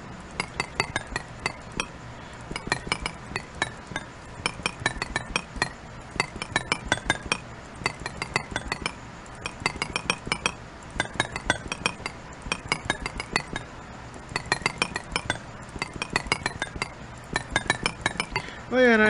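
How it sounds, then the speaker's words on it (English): A chisel works blocks in modded Minecraft, giving repeated bright clinking, chiming hits in quick clusters throughout, under a person talking. "The chisel's about to break."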